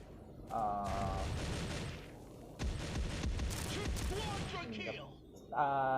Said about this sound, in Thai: นี่ไปยิงให้ศัตรูเจ็บก่อนก็ได้ครับ